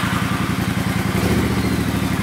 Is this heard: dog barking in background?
no